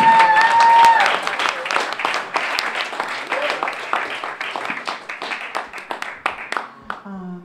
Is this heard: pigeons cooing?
no